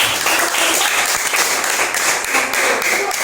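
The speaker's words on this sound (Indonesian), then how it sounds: "itu tepuk tangan dulu" Audience applause at a teacher-training classroom session in Madura, dense steady clapping from many hands filling the whole stretch at even loudness.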